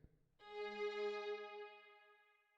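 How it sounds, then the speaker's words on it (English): A second layer of strings from a music track enters after a brief low-pitched opening and holds a sustained, bright chord with rich harmonics, swelling slightly, then slowly fading out. "then we've got the second set of strings sounds like this."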